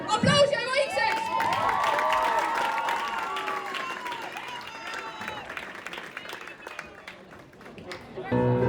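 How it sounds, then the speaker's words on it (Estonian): An audience at a school TV show event applauds and cheers, a dense wash of clapping mixed with excited crowd voices and shouting that gradually fades. "Aplaus ja vaikseks!"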